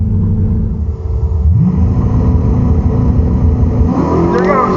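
A drag race car with a large-displacement engine launches hard off the line, a loud deep engine roar that rises in pitch as it accelerates, close and steady with no talk.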